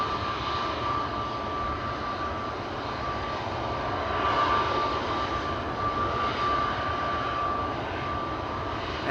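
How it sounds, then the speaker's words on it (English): A KLM jet lined up on the runway at Schiphol, its engines giving a loud, steady roar with a thin tonal whine, swelling briefly midway and staying strong throughout. "KLM flight 1989 to Ljubljana in Slovenia, lined up over here."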